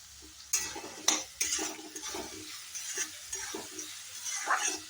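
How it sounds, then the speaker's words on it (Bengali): Chopped onions frying in a pan, a soft sizzle with several sharp scrapes and clinks as a utensil stirs them, close and fairly quiet, with no voices. "তো পেঁয়াজটা ভাজা পর্যন্ত একটু অপেক্ষা করব।"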